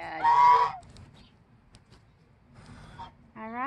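A pet goose honks loudly nearby, with a burst at the start, softer calls in the middle and a rising honk at the end, alone without talk.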